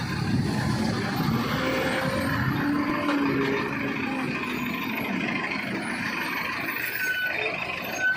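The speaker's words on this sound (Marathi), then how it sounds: "हे बघा गाड्या जातात हळूहळू मित्रांनो पूर्ण लॉक झाला आहे" Slow-moving traffic crawls along a fully jammed highway, where trucks and a bus give a continuous low engine rumble with faint brake hiss, steady and fairly close.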